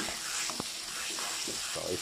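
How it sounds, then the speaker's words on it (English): Spicy chilli paste and celery frying in oil over a medium flame, a continuous soft sizzle with brief clinks and scrapes of stirring, close up. "Okay, you have to cook it until in now medium flame until the oil leaves at the side."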